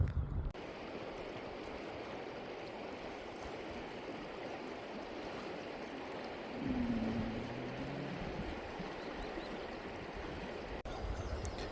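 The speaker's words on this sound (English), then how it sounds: "So as you can see, it's a really wide bit of river here." A wide stretch of the River Dee in Scotland flows in a steady, soft rushing wash, distant and continuous, with a faint low hum rising briefly midway.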